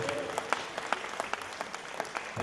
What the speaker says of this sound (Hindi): आप खुद का लिए एक बार जोरदार ताली, और हम लोग की तरफ से जोरदार तालियां दो।